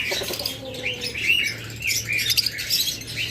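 A pair of red-eyed Fischer's lovebirds chirps in quick, bright bursts, with repeated high tweets scattered across a few seconds and no talking.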